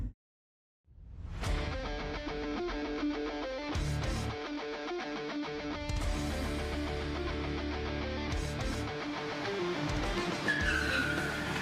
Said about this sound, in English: But once you start driving, you get into more immersive sound that's unique to this vehicle.